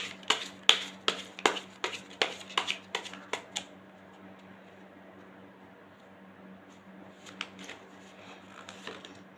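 Tarot cards shuffled during a reading: a rapid run of crisp riffling flicks for several seconds, then a pause and a softer brief riffle later, close and clear over a faint steady hum.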